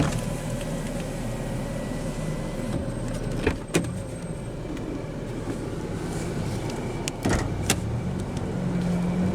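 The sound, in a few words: 2014 Jeep Grand Cherokee driver's power window rolling down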